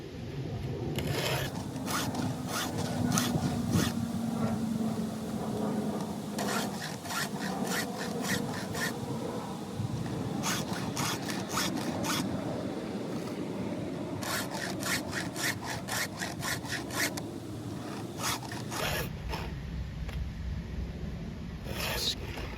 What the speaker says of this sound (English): do about 5 passes